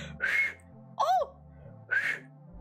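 Someone attempting to whistle produces three short, breathy tones with an airy quality, each a brief rising-and-falling pitch, separated by pauses, near and fairly quiet.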